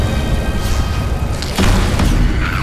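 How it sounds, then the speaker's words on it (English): Dull, rumbling booms of explosions in the game Magicka over continuous noisy background, several overlapping blasts with a heavier burst midway. "Explosions!"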